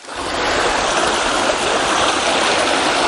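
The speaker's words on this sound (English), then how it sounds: "along the trail, there's this beautiful little stream" A small stream flows along a forest trail on a rainy day, its steady broadband rush of water close and continuous, with no voices.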